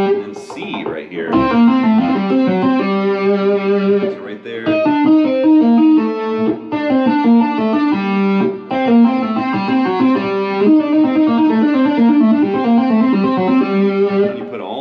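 A distorted electric guitar plays a fast Bach-style classical etude, continuous flowing runs of notes with brief breaks, loud and up front with no voice over it.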